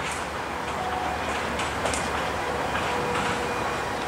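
Adirondack Railroad train standing on the track awaiting clearance onto CSX rails, giving a steady, fairly loud idling rumble with faint hiss and occasional clanks throughout, no talk.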